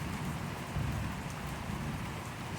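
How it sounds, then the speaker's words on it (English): Steady rain falling on a car and the ground outdoors at night, a dense, even patter heard alone at moderate level throughout. "Yeah, but you can tell it's raining over the car and on the floor."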